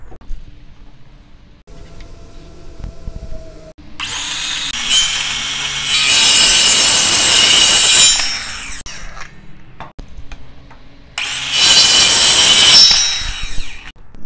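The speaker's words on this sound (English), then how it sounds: "I've already set my power saw to a 1/2 inch depth" A power saw set to half-inch depth cuts notches into wood in two loud, sustained passes, each preceded by the motor spinning up and followed by quieter pauses with light handling noises.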